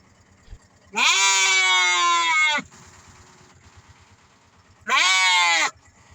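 Sheep at a rural village market in Kandiga, Ghana give two loud, close bleats, a long wavering one followed by a shorter call after a pause, over quiet background market noise.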